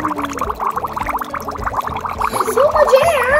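Air bubbles gurgle out of a hollow shell as it fills with water, a steady burbling close and fairly loud, with a brighter voice-like warble rising near the end.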